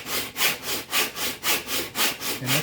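Violin ribs rubbed back and forth on sandpaper glued to a flat board, a steady rhythmic rasp of about nine even strokes, close and alone.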